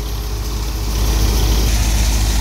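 A Swaraj 963 FE tractor engine runs steadily, a loud, continuous low diesel rumble that holds constant without voices.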